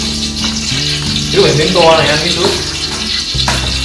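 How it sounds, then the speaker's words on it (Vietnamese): Muscovy duck meat marinated with galangal and lemongrass sizzles steadily in a hot pan, a loud continuous frying hiss with a voice speaking over it. "chú sẽ cho lên nồi để chú chiên"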